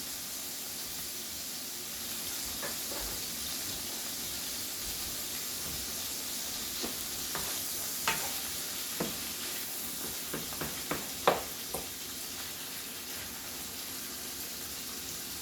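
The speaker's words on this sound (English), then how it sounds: "So now that your beef is cooking up really good, you chopped your patties up" Seasoned ground beef and chopped burger patties fry on a hot griddle with a steady, close sizzle, broken by a scatter of sharper spatula scrapes and clicks toward the end.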